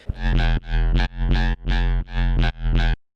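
A buzzy, distorted Serum synth bass plays six sustained notes in a steady rhythm, each with a sharp attack and a short gap between them, loud and alone.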